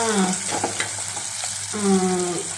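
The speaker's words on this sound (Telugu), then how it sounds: "చూడండి ఈ విధంగా వేయించుకోవాలి తిరగమాత వేగిపోయిందండి" Tempering sizzling in hot oil for a peanut and mango chutney: a close, steady frying hiss with brief crackles and stirring clinks, lasting a couple of seconds.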